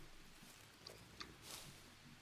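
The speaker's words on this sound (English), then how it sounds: "okay, that's just pigs" Pigs grunting in the jungle survival game Green Hell, a few short faint snorts spread over about two seconds against quiet ambient background, no one speaking.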